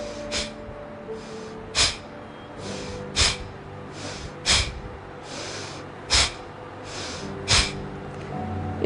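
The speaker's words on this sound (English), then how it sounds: "we breathe out by pulling the stomach in and the whole breath comes out with a jerk" Forceful, jerky exhalations from a breathing exercise done seated with hands on the knees, each one pushed out by pulling the stomach in: about eight sharp nasal bursts at a steady rhythm roughly every one and a half seconds, close and clear, with quieter breaths between.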